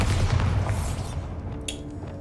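Bombarda spell explosion in a Harry Potter video game, a deep booming blast that rumbles for about a second and then fades into a faint crackling tail.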